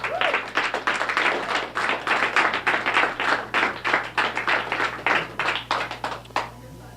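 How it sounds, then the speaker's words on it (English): A crowd claps steadily, a room full of hands applauding together at a quick, even pace, sustained throughout without voices standing out. "I think we all deserve our own round of applause"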